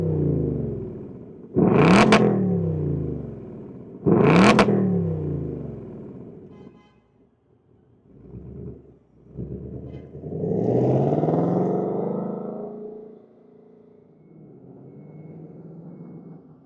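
A 2025 Ford Mustang GT in Molten Magenta with a V8 engine fires up and gives two sharp, loud revs, then settles into a lumpy idle before a longer rising rev and a rumbling idle.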